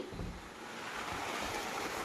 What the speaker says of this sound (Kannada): ಹೊರಗೆ ಇಷ್ಟು ಜೋರು ಮಳೆ ಬರಾಕತ್ತೈತಂದ್ರೆ ಸಿಕ್ಕಾಪಟ್ಟಿ